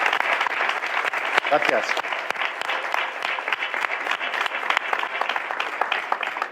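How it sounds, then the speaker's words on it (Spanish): Audience applause at a public talk about a crewed trip to Mars, a dense, continuous wash of clapping throughout, with a voice briefly speaking over it. "me gustaría que recibiera un aplauso de todos porque se lo merece."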